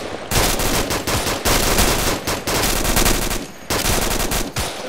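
Automatic gunfire crackles in dense, loud bursts during a video game firefight around a building, with short gaps between volleys and no talk over it.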